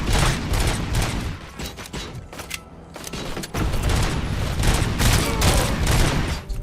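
Heavy gunfire in Robocop: Rogue City, loud sustained bursts of shots with booming impacts and mechanical clatter, broken by a short lull before the firing resumes.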